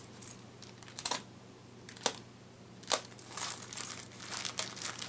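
A taped-up package is cut open at close range, with scattered crinkling, scraping and sharp snapping sounds from tape and packaging arriving in uneven bursts over quiet background hiss.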